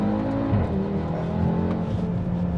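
A 400-horsepower Audi RS3 engine rumbles steadily up close, its low drone rising slightly as it revs, with no voices over it.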